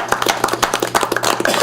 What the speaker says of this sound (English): these guys deserve your applause and your thanks